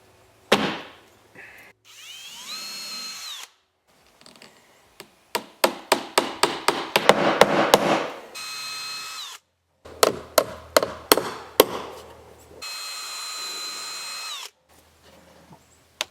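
A power drill or driver sends screws into wood with no pilot holes, running in repeated bursts. Sustained whirring alternates with rapid ratcheting clatter at close range, with no talk.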